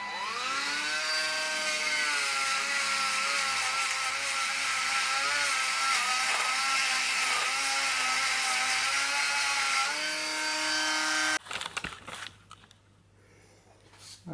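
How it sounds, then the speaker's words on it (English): A small Dremel-copy rotary tool works on engine parts during an engine refurb. It gives a steady, loud, high-pitched motor whine that rises and dips slightly in speed for about eleven seconds, then cuts off abruptly. No one talks. "Let's see if the little Dremel copy thing can get into these little hard to reach places and actually do anything."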